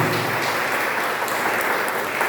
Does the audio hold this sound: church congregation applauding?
yes